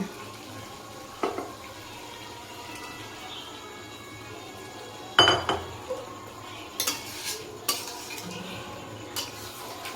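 Butter chicken stirred in a pan: quiet, intermittent scraping and clinking of a spoon against metal over a low background hum, with a few sharper knocks and a faint sizzle underneath.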